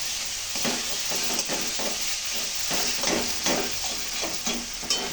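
Chicken with onion, ginger and garlic pastes and ground spices sizzles loudly in a pan over lowered gas, with steady hissing and regular rhythmic scraping strokes of a spatula as it is stir-fried.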